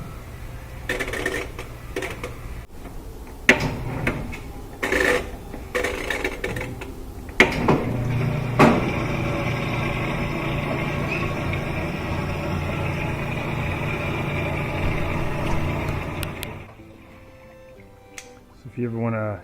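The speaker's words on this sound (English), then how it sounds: "We can see it's draining and it's starting to pick up speed for the spin." A Whirlpool top-load washing machine draining and picking up speed for its spin cycle: a steady mechanical hum and whir with scattered clicks and knocks, ramping up, then dropping off near the end.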